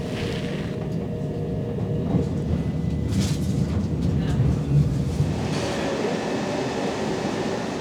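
A South Western Railway train bound for Portsmouth Harbour heard from inside the carriage, with a steady rumble and rattle of wheels on track and a faint murmur of passengers behind it.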